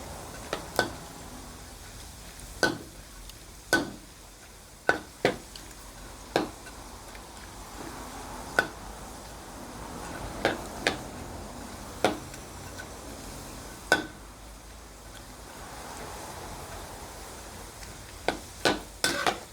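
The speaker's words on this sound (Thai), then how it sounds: "กำลังทอดรอบที่สองนะคะ" Pork rinds (khaep mu) deep-frying in hot oil on their second round, with a soft continuous sizzle and bubbling broken by a series of sharp, irregular pops and crackles; no talking.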